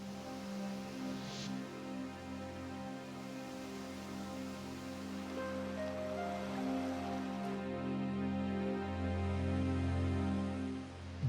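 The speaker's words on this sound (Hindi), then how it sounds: "झरने जो इंसान के मन को हमेशा लुभाते हैं, इनके गहराई में गिरने से उपजा संगीत" Handawada waterfall in Chhattisgarh pours in a steady, dense roar of falling water that holds throughout and swells slightly toward the end, with no voices over it.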